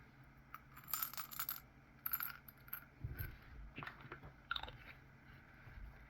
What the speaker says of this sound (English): I love jacks, especially the old-fashioned metal ones.